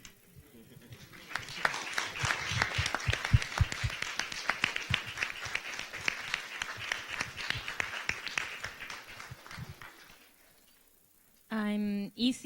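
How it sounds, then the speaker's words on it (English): Applause from a youth conference audience at a UNESCO sustainability gathering in Okayama, dense clapping mixed with voices for about nine seconds, then fading out before a short burst of tonal sound at the end. "Just stand and give yourself a round of applause"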